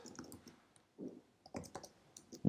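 Someone types a project name on a computer keyboard, producing a quiet, irregular run of light key clicks in small bursts with brief pauses, heard close and alone.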